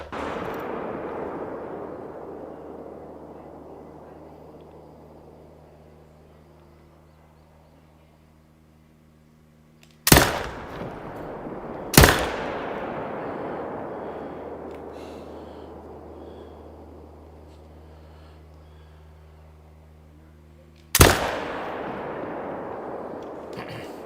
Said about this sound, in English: In fact, I'm going to shoot him first.